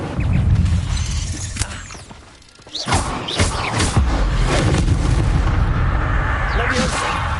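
Incendio fire spell in Hogwarts Legacy, a series of booming, thudding blasts and crackling impacts over dense game music and effects, with a brief lull before the bursts resume.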